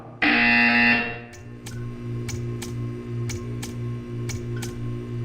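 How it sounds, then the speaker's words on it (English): A loud harsh buzz from a Portal 2 game buzzer sounds briefly at the start, then a steady hum continues with faint regular clicks ticking at intervals. "You will hear a buzzer."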